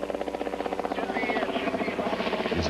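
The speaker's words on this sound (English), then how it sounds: "you could hear the chopper coming up over the hill" A rescue helicopter approaching over a hill: a rhythmic, pulsing rotor chop beats steadily at moderate distance, building slightly, with a voice speaking over it.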